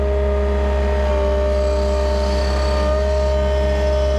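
A skid steer loader's engine runs steadily at close range, a loud, continuous, even drone with no change in pace and no talk over it.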